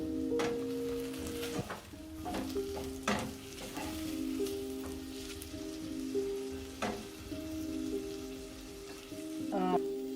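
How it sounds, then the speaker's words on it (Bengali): Ginger and garlic frying in a pan with browned onions, a continuous sizzle broken by sharp clanks and scrapes of a spoon against the pan, with no talking. "পেঁয়াজগুলো লাল হয়ে গেছে, আমি এখন দিয়ে দিচ্ছি আদা রসুন"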